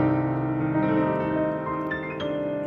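A piano sounds a minor 6 chord, its tones ringing together and slowly decaying as a sustained, moderately soft chord, with a few lighter notes toward the end.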